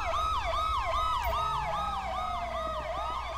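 Police siren from the video game GTA 5, a loud continuous wail cycling rapidly up and down, with an engine rumble and a falling tone underneath.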